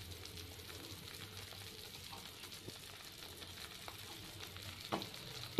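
Mysore pak batter in a pan sizzles and fries softly as ghee is poured in and stirred, a steady low crackle with faint scraping and a small clatter near the end.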